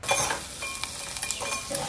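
Cumin and mustard seeds crackle and sizzle in hot coconut oil, a dense, busy spitting with small popping bursts, close and moderately loud for a couple of seconds with no talk.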